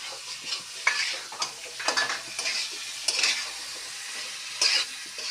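Onions and tomatoes fry in hot oil in a pan for a jackfruit curry, giving a close crackling sizzle with bursts of spoon scraping and clinks against the pan.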